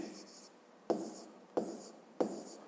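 Numbers handwritten with pen or chalk during a fifth-grade maths lesson, heard as a few short scratching strokes separated by sharp taps, close and fairly quiet, with no talk.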